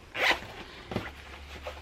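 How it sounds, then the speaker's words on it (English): A zipper on a sewn foldable shopping bag is pulled along in one quick rasping stroke, followed by a second shorter zip, close and clear with no talking. "Pull the zipper along, make sure nothing's sticking out."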